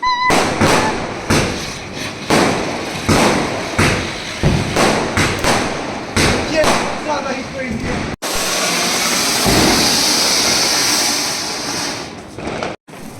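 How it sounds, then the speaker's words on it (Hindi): Children set off firecrackers during a Diwali celebration: a loud, close series of repeated bangs and thuds, then dense continuous crackling as a string of crackers bursts, with voices in the background. "इतने ज़्यादा पटाखे इन लोगों ने फोड़ दिए।"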